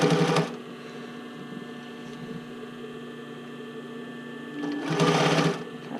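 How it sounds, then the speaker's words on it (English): A sewing machine stitches along the edge of a bra cup casing in two brief bursts, one at the start and one near the end, with a low steady hum between them. "I'm sewing right on the edge of the casing"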